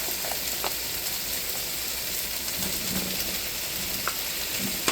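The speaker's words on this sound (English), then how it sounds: "And I want to throw in my mushrooms." Mushrooms sauté in a pan alongside tri-tip, giving a steady, fairly quiet sizzle and crackle with a few soft spatters, no voices over it.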